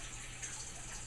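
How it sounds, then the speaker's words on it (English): Water poured into a soup pot to cover the ingredients by about an inch, a faint, steady splashing stream with no voices. "you're going to add enough water just to cover so that you have about an inch covering your ingredients in the pot"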